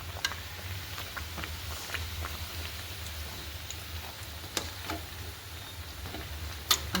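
Muthiya dumplings frying in hot oil, a soft steady sizzle with scattered crackles and pops, close and quiet throughout.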